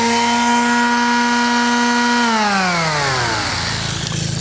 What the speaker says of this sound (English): The spirits have taken hold of that sander.